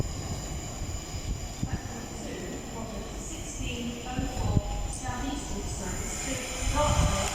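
Southeastern Class 376 electric train pulling into London Bridge station, a steady rumble and hiss of the arriving carriages with squealing tones, building slightly louder toward the end, with people talking nearby.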